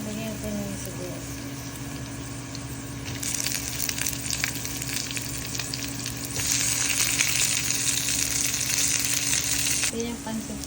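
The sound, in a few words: onions frying in a pan for yakisoba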